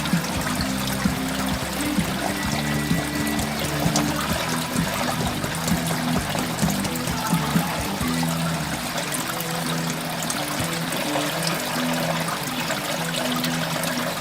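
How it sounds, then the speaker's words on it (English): Material being dunked and soaked in a container of water, giving a constant loud wash of trickling, splashing and gurgling liquid, close up and unbroken, with no voices. "We'll dip it under the water to get it nice and wet."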